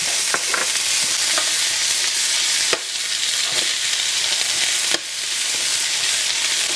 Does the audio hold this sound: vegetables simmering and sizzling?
yes